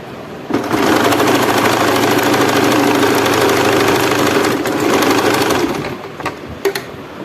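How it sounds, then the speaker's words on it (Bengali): A sewing machine stitches a tassel for a designer blouse, a loud, close, rapid mechanical whirr running steadily for about five seconds before stopping, followed by a few faint clicks and handling sounds. "আমি আরেকবার এটাকে সেলাই করে নিচ্ছি।"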